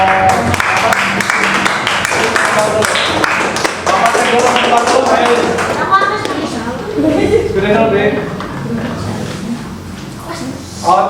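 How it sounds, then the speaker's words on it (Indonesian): Students in an Indonesian classroom clap for a presenting group, a loud burst of many hands that thins out over several seconds, with voices and chatter mixed in. "Tepuk tangan buat kelompok."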